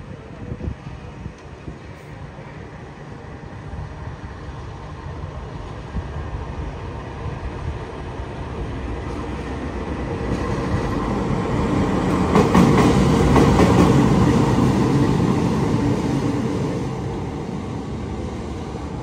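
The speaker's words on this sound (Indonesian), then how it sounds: "lokomotif kereta api Purwojaya sudah bergerak ke arah sana dan akan dipasangkan kembali" The Purwojaya train's locomotive rumbles along steadily on its own with a low mechanical roar that swells louder midway, faint rattling and clacking over it.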